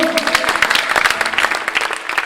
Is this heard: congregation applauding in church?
yes